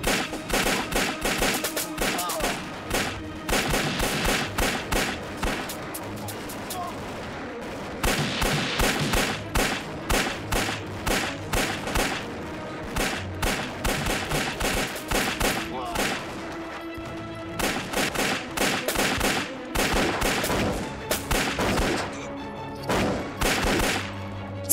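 Rapid bursts of gunfire from soldiers in a Japanese-era wartime battle, dense volleys and machine-gun-like rattles repeating loud and close for the whole stretch, with brief shouted voices among the shots.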